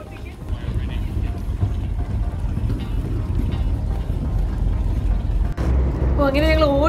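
Steady low engine rumble and wind noise aboard a ferry running from Russell to Paihia in New Zealand's Bay of Islands, continuous throughout, with a brief warbling tonal sound near the end.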